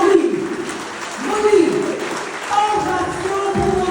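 Applause from the audience at a general assembly: a sustained, moderately loud patter of clapping hands, with voices talking over it throughout.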